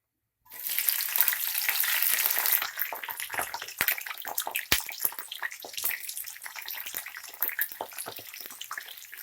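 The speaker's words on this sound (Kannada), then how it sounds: "ಇದು ಸ್ವಲ್ಪ ಫ್ರೈ ಮಾಡ್ಕೊಳ್ಳಿ" Chopped capsicum goes into a hot pan for a cauliflower potato biryani, bursting into a loud sizzle that eases into a steadier fry with scattered crackles and a few stirring scrapes, heard close with no talking.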